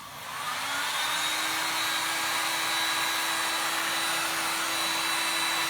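A handheld heat gun blows hot air over a glued Christmas decoration made with moulds, transfers and epoxy resin, giving a steady, loud, continuous whoosh with a faint motor whine that runs unbroken and alone.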